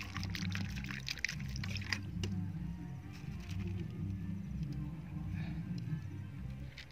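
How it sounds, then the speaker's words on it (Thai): Water is poured into a drinking glass for dwarf snake plant cuttings, a soft, continuous trickle heard close up over a low background hum. "เอาน้ำใส่ลงไปนะคะ"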